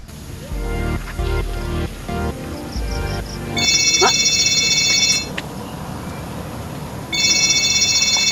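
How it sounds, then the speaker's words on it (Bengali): A mobile phone ringtone plays in bursts of bright electronic tones, loud and close, after a stretch of rhythmic music and background talk. "তার কোন বাজতে আছে"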